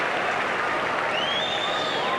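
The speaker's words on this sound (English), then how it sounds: "Good to see the Queenslanders cheering as well, Tony" Test cricket crowd in Queensland applauding and cheering, a steady roar of clapping throughout the short stretch, with a faint whistle rising above it.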